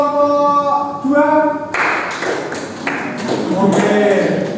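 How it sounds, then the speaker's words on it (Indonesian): A classroom group claps for a student team after a teacher's spoken request, a burst of scattered, fairly close handclaps following a stretch of talk and continuing unevenly to the end. "Beri tepuk tangan untuk kelompok 2."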